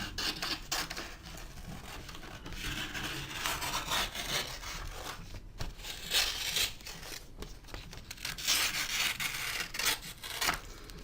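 Glitter decal film being trimmed, a steady close scratchy cutting and rubbing that carries on with small pauses, quiet and without speech.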